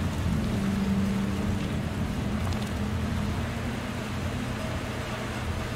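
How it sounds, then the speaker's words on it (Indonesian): Heavy rain pours in the Sea of Thieves game, a dense steady hiss of downpour with a low droning hum underneath, continuous and fairly loud. "Wah, hujan deras dong."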